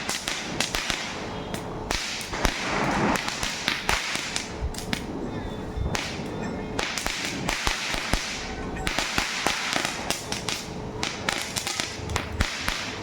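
Rapid, sharp firecracker bangs burst in an irregular string, some louder and closer, with faint voices in the background between pops.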